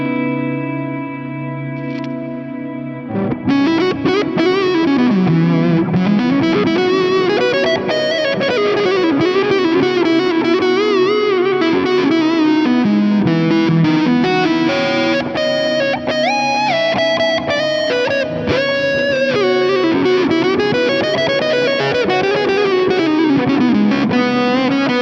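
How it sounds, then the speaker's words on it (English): Electric guitar through a Fuzz Face fuzz model on an Axe FX3, playing loud sustained distorted chords and bending lines drenched in long reverb and echo, with a soft swell before the full sound enters. "I really like the fuzz face in the Axe FX3, especially with lots of reverb"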